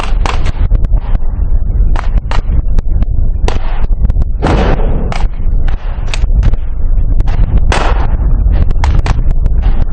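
Loud, dense gunfire during a special forces raid on a building, with rapid bursts of automatic rifle fire and heavy booms from grenades overlapping continuously without a break.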